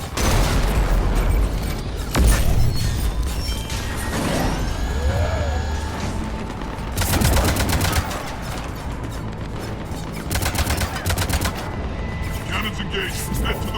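Heavy cannon fire in the sci-fi shooter Mass Effect 3, loud booming blasts and crashing impacts layered with game effects, sustained battle noise throughout with a voice speaking over parts of it.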